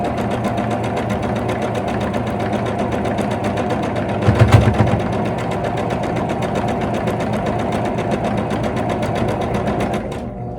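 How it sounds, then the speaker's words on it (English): A sewing machine stitching a quilt block runs steadily with a fast, even mechanical rhythm, broken midway by one heavy thump before carrying on and stopping. "when you heard that big bump on the sewing machine, it's normal"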